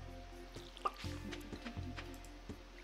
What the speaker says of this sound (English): So first things first, we're going to water all our crops.